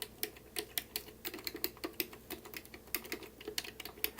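Microswitch buttons on a JB King Super Joystick for the SNES clicking in rapid, irregular succession, crisp and close with sharp individual clicks and no talking.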